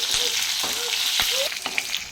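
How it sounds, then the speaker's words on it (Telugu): Green chillies frying in oil with cumin seeds in a pan for tomato pachadi, a loud continuous close sizzle with brief spatters and stirring scrapes throughout. "ఇప్పుడు పచ్చిమిరపకాయలు మంచిగా ఫ్రై కావాలి."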